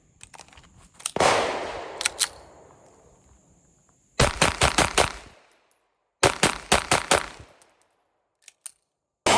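Girsan Match X pistol being fired in a shooting test, loud, sharp reports coming in rapid strings with short pauses and echoing tails, near and dominant, with no speech.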